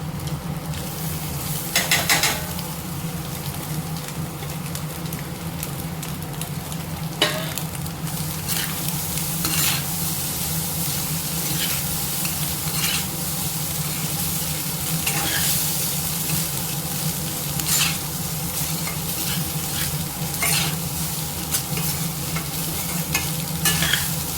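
Cooked, cooled rice being fried with egg in a pan sizzles steadily while a spoon stirs and scrapes, with frequent brief clatters against the pan, loud and close throughout with no talking.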